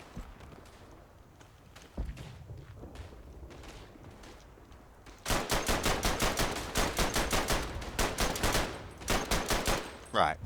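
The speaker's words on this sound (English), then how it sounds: "the Brain Gun, my favourite light machine gun of all time" A Bren light machine gun fires in the trench-warfare shooter Verdun. A single shot comes first, then a loud, sustained rapid burst of automatic fire that pauses briefly and resumes, close and dominant over faint background battle noise.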